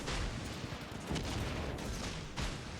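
Rapid volleys of warship secondary guns in World of Warships: Legends, a rough, continuous rumble of overlapping shots punctuated by several sharper booms.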